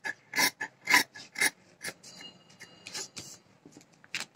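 Scissors snipping through glove fabric along a curve during a tailoring lesson, a run of quick rasping cuts, close and fairly quiet, with no talking.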